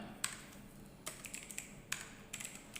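Quiet clicking of a computer keyboard as a file name is typed, short bursts of keystrokes with brief pauses, close and soft, no speech.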